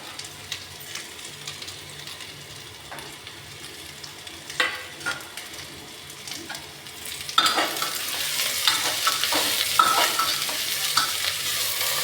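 Onion and garlic fry together in a pan, a moderate sizzle with occasional stirring scrapes that swells into a louder, brighter crackle partway through, heard close with no talk.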